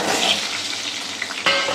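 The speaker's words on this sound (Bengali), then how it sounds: "আলুটা আমার লাল লাল করে ভাজা হয়ে গেছে" Four small potatoes fry in hot oil, giving a brief, close, steady hissing sizzle with a slight bubbling quality and a small clatter near the end.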